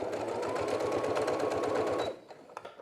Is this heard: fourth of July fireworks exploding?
no